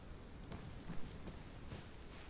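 Rain falls in a survival video game, a soft, steady hiss with no breaks and a few faint patters, quiet and distant throughout.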